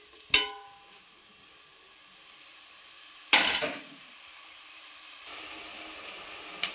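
Onion pieces fry in a pan for a fish curry: two sharp bursts of sizzling flare up and fade to a quiet crackle, then a steady hiss builds near the end.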